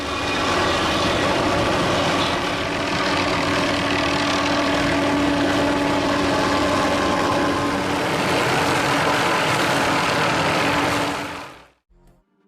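A helicopter fitted with a suspended cutting mechanism trims tree branches near power lines, giving a loud, steady rotor and engine drone with a continuous buzzing whine that holds for about eleven seconds before cutting off abruptly.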